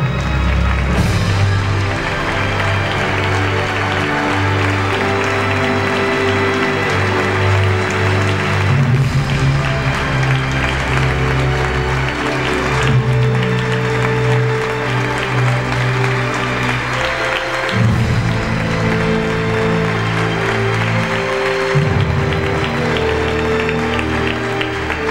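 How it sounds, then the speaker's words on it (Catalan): Steady, continuous applause from an audience greets the prize winner at the Premis Ciutat d'Igualada 2003 award ceremony, sustained throughout over a backdrop of music. "un fort aplaudiment per tant per Gerard López Boada per haver aconseguit aquest guardó"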